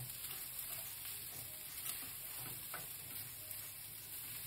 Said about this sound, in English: So I'm just keep turning the rice.